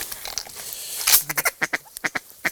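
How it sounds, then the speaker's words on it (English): Mallard drake quacking during a duck hunt outdoors, a series of about ten sharp, evenly spaced quacks in quick rhythm, fairly close and loud over faint background noise, no talk. "Got a mallard drake dumping right in here."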